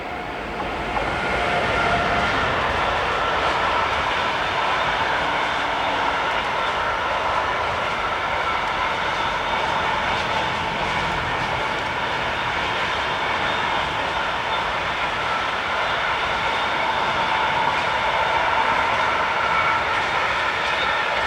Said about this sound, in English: heading south we have Vectron number 193212 on hire to TX Logistic, with train 40565 from Padborg to Verona in Italy